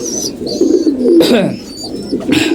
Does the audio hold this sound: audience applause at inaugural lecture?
no